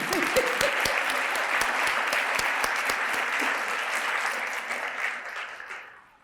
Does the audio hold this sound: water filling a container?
no